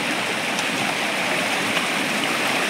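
Stream water rushing steadily near a waterfall in dense jungle, a continuous broadband roar with no voices, close and even throughout.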